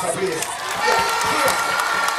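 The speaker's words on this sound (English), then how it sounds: "Give me a round of applause," A crowd at a live show breaks into applause with cheering and shouts, a dense, loud, continuous roar for a couple of seconds with a brief voice over it.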